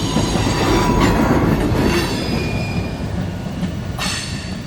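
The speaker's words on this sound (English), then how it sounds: "The rear of the train crosses over the former CNJ right-of-way" A Reading & Northern freight train rolls past, close and loud, with a heavy continuous rumble of wagons, rhythmic wheel clatter and high squealing from the wheels on the rails.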